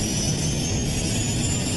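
The American Airlines 191 airliner's jet engines roar in flight, a loud, dense, unbroken wash of noise filling the whole short stretch.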